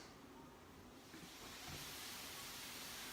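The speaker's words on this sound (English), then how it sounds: "You have to excuse the sizzling because that's my peppers on the go there." Peppers and vegetables sizzling in a pan on an Aga range, a steady broadband hiss that swells slightly partway through and stays fairly faint.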